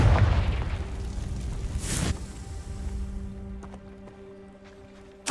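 A Confringo fire spell bursts in Hogwarts Legacy, a loud booming explosion up front with a sharp flare near the two-second mark, then a lingering tonal hum and fading rumble.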